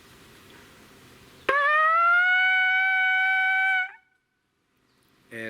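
A single high, steady buzzed note on a horn fitted with a trumpet-style mouthpiece sounds loud and close, starting abruptly and holding for over two seconds before dropping off.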